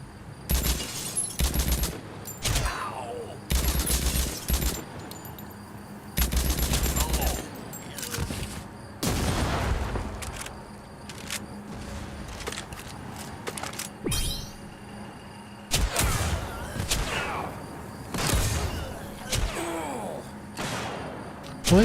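Gunfire bursts from the shooter game TimeSplitters Rewind, loud repeated volleys in uneven clusters with quieter gaps between, mixed with game effects.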